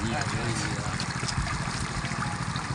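Water flowing steadily across a flooded farm field, a continuous close trickling rush that holds even throughout, with a voice speaking over it.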